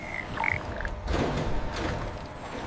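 Giant jungle frogs croaking inside an industrial reception hall of a frog processing plant, a few short croaks and chirps over a low, continuous mechanical hum.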